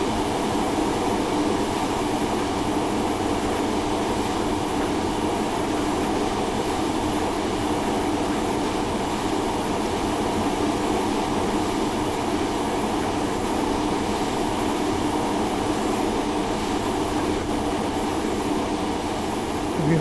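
An Amfleet and Comet V commuter train runs on the Bayport Branch in snow, a loud, steady rumble and rail roar heard from on board, continuous throughout.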